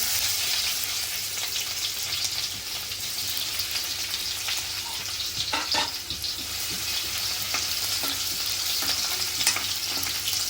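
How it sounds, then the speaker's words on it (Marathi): Garlic tempering in hot oil in a kadhai for a small prawn curry gives a steady, loud sizzle and crackle with occasional pops and stirring scrapes throughout. "आता आपण लसूणची फोडणी करूया।"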